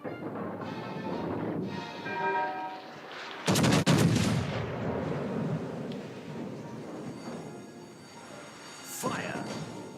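Naval guns fire in a warship video game, heavy booming blasts with a sharp loud crack near the middle and another shot later, mixed with game voice lines and background sounds.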